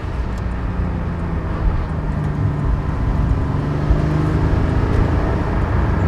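Porsche 718 Spyder driving and gathering speed, a steady broadband road and engine roar that swells slightly as the pace builds, continuous and close with no talking.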